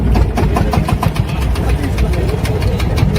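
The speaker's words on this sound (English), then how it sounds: "This motorcycle, powered by a 15-horsepower stationary Eziok engine, showcases incredible Polish ingenuity." A custom Polish motorcycle powered by a 15-horsepower stationary Eziok diesel engine runs steadily nearby, a loud, rough idle with a fast, even knocking pulse and no pauses.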